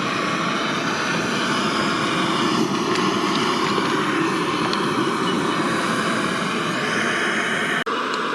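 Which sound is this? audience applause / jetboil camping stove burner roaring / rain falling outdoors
jetboil camping stove burner roaring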